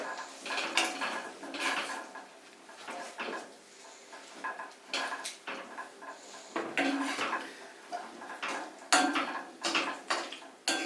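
Chopped onion pickle is stirred in a pan with a metal spoon, producing repeated close clinks and scrapes against the pan in an uneven rhythm, fairly quiet throughout.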